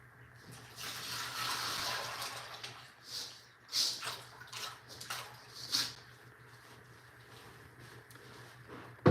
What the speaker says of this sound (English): I'm going to dump out the dirty water in the bottom.